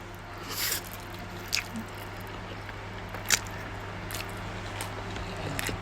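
Crispy omelette with chewy noodles being eaten close to the mic, with soft squishy chewing and a few sharp crunchy bites over quiet background hum.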